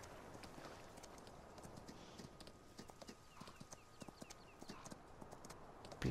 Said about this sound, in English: Beautiful black horse.